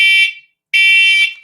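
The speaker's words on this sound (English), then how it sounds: "Oh, no, that's a smoke alarm." A smoke alarm goes off indoors with two loud, piercing electronic beeps separated by a short silence.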